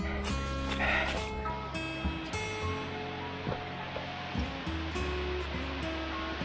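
Ōtaki waterfall on the trail near Mount Ōdake in Okutama gives a continuous broad rush of falling water close by, with occasional brief knocks and tonal sounds over the steady roar.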